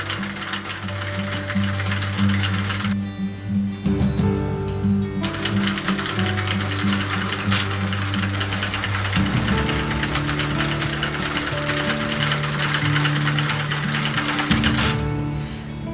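Circular knitting machine working acrylic yarn, its crank turning continuously with a loud, steady mechanical clatter of ratcheting needles and gears. A few brief changes in pitch break up the whirring, with no voices.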